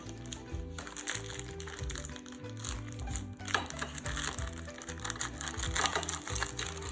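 Ladyfinger biscuits being cut for a no-bake tiramisu, a dense run of dry crunching and splintering crackles in quick rhythmic bursts, close and continuous, with faint background noise.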